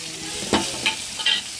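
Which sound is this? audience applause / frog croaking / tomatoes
tomatoes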